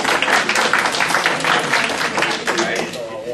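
Crowd applause fills the room at a STEM careers talk, a dense steady wash of clapping from many hands with some voices mixed in, fairly loud throughout.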